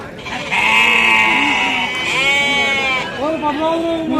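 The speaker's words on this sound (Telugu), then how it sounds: "లోకల్ మేకలు ఇవి" Close, loud bleating from local goats, a long wavering cry followed by shorter calls, with voices talking nearby at an animal market.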